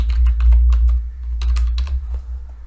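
Fingers typing on a computer keyboard, a quick run of close, crisp key clicks in uneven bursts with a short pause midway, alone without talk.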